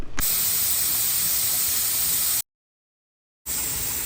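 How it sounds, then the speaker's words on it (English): Loud, steady broadband hiss of steam rushing out of a pressure canner, cut off abruptly for a second of silence, then resuming just as strongly. "now we wait until there is steam coming out like a freight train"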